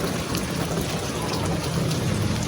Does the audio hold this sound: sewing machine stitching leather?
no